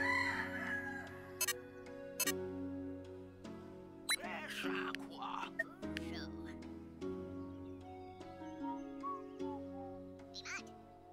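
A chicken rooster crows in the video game dotAGE, heard over steady game music with someone talking throughout.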